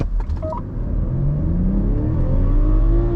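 Race car pulling away down the track, its engine note rising steadily through the revs as it accelerates, with a short electronic beep at the start.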